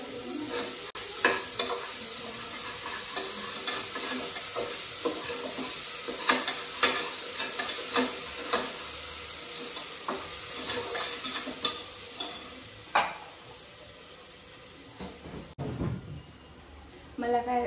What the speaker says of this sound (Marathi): अद्रक लसूण, जिंजर गार्लिक पेस्ट